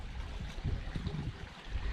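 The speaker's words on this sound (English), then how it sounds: "So we found this nice little stream or creek." Small cold mountain creek flowing on a backpacking trail, a steady low burbling water rush with soft trickles, close and continuous, no voices.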